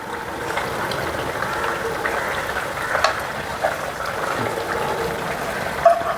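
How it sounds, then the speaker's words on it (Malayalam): Fried avoli (pomfret) pieces slide into thick, boiling Kerala-style mappas gravy with a steady, close bubbling sizzle, a few soft splashes and plops breaking through the constant simmer. "നല്ല തിളച്ച ഗ്രേവിയിലോട്ട് വറുത്ത ആവോലിനെ പെറുക്കിയിടുന്നു"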